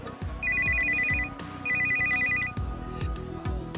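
An incoming call sets a phone ringtone going: two warbling electronic bursts, close and clear, over steady background music in a short film.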